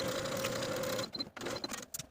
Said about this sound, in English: I'm going to take this to my machine and sew from the top of the fabric to my pin